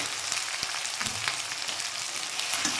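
Ground coriander and cumin fry in hot oil in a pan for a cabbage kofta curry, a dense steady sizzle running throughout with faint stirring scrapes underneath.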